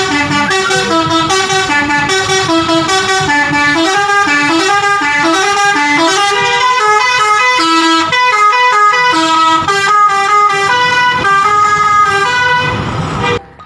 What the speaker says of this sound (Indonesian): Kali ini ada bus Restu Panda teman-teman.